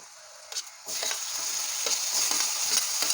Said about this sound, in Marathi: तेलात चांगले फ्राय करून घेऊया त्यानंतर मी या ठिकाणी ॲड करते आहे टोमॅटो